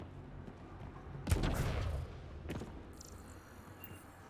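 Remnant enemies fire on the player in Mass Effect Andromeda: a loud burst of gunfire with an impact around mid-clip, a second shorter crack after it, then quieter ambience.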